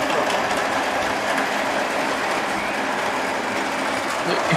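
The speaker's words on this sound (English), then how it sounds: "This is where that Casey Jr. steam engine came" A steam train in old footage runs with a loud, continuous rumbling clatter that holds steady throughout.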